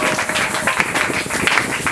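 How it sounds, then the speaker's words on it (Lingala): Crowd applause and cheering during a French-language church worship service of spiritual-combat prayer, a dense steady wash of clapping sustained throughout, with voices mixed in. "Acclamez très fort pour le Seigneur."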